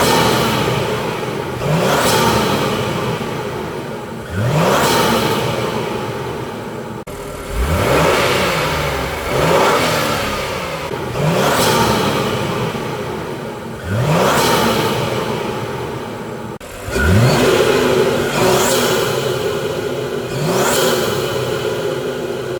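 Repeated revving from an Acura MDX Type-S fitted with an HPS cold-air intake, loud and close, with five or six rising blips each followed by a gradual drop-off and a faint whir, and no talking.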